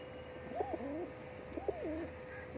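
Two soft, rolling pigeon coos come about a second apart, faint and a little distant over a low steady background hum, with no voices.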